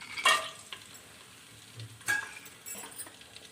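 Whole spices, including cloves and cardamom, hit hot oil for a vegetable pulao tempering, giving a quick sizzle and stir with light clinks of a utensil. Short bursts rise and fade over a quiet background.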